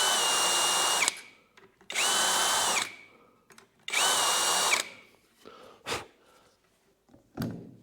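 A power drill boring screw holes for door hinges in three sustained whining bursts, each about a second long, followed by a few short quieter spurts and a faint sigh.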